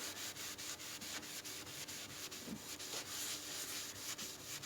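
Damp cloth dipped in wood ash scrubbing the burnt-on glass door of a wood burner, a quiet, rapid back-and-forth rubbing rhythm repeating steadily.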